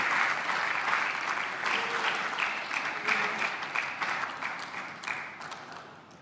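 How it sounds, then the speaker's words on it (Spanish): A church congregation applauds for the King, a loud burst of many hands clapping that starts at full strength and gradually tapers off, thinning toward the end. "Oh, dale un aplauso grande al Rey."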